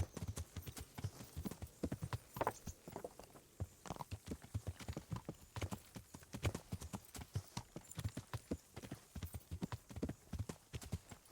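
Horse hooves clop in a steady walking rhythm in the video game Kingdom Come: Deliverance, close and distinct, with occasional soft shuffles between steps.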